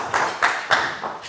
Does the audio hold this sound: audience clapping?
yes